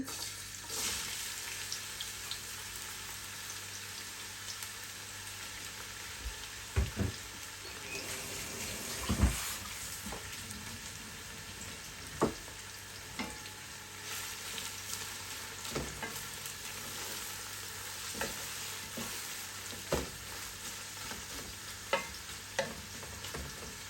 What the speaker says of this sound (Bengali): এখন আমি এটাতে আগে পেঁয়াজ দিয়ে দিব এই যে কাটা পেঁয়াজগুলো দিয়ে দিচ্ছি